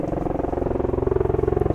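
Steady low rotor thumping of an Osprey tiltrotor aircraft overhead in Norfolk, a rapid pulsing drone that holds for a couple of seconds.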